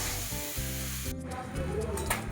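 Potato and green banana curry with mashed spices and turmeric sautés in oil, giving a continuous close sizzle with stirring under a steady tonal hum, no voices.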